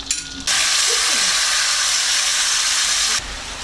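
Balls of mashed potato hit a pan of melted butter and olive oil and burst into a loud, steady sizzling hiss that holds for about three seconds, then cuts off abruptly.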